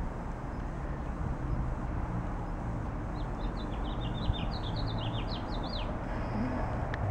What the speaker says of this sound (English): Can you guys hear the birds singing?